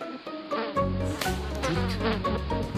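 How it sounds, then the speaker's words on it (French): Flies buzz around in a meadow, a close, continuous droning hum with shifting pitch as they move, no voices over it. "Il y a encore des mouches là-bas."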